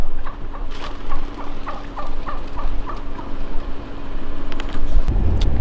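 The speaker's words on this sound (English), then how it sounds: "baby turkeys." Wild turkeys calling outdoors in the Adirondacks, a run of short rhythmic gobbling clucks repeated at moderate distance over a constant engine hum, with a louder rumble near the end.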